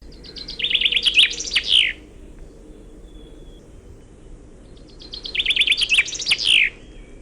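Two bursts of bright, rapid chaffinch song in the Wallonian song type, each a trill ending in a distinct flourish, separated by a pause, close and clear over a quiet background.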